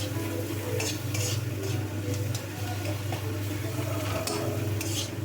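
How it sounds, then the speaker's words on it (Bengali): Tomatoes, turmeric and a green chili being stirred in a pan for Bengali masoor dal, with a steady low sizzle and occasional spoon scrapes and clinks against the metal, close and continuous with no talk. "অল্প একটু হলুদ, একটা কাঁচা লঙ্কা, মানে ওই পরিমাণ মতন একটু দিয়ে ভালো করে নাড়াচাড়া করে নিচ্ছি।"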